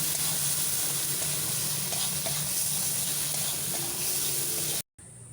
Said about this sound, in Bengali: এরপর দিলাম লঙ্কা গুঁড়ো, হলুদ গুঁড়ো আর দিলাম একটু জল দিয়ে ভালোভাবে মশলা কষে নেব।